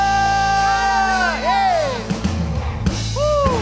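A church congregation whoops and cheers loudly during a Sunday service, with rising and falling shouts and hallelujahs layered over a steady background din.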